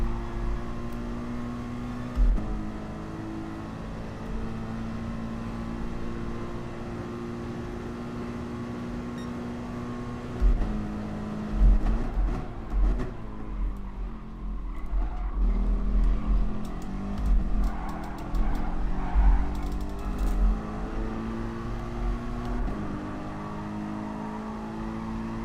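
A Mercedes Group 3 race car at Interlagos in Gran Turismo Sport drones with a steady, moderately loud engine tone, shifting pitch at gear changes and revving harder through the middle section.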